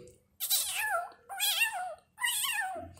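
A human voice imitates a cat meowing three times in a row, drawn-out and wavering, each call separated by a short pause.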